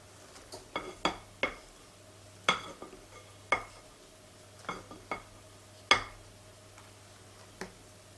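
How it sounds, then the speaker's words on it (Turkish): A utensil stirs butter into a soufflé omelette mixture in a bowl, giving a string of sharp, irregular clinks and taps against the bowl, close by over a faint low hum. "Karıştırarak Yağı da sufleye yedirdik arkadaşlar."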